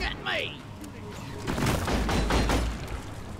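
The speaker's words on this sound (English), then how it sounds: "Why are you shooting at me?" Gunfire in the game Deep Rock Galactic: rapid bursts of shots and booming thuds crowd together in a busy fight, over a rumbling low background.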